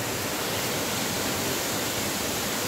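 Aw-Asen Falls in Sigay, Ilocos Sur pours in a steady, broad rushing roar, a continuous wash of falling water heard on its own without pause.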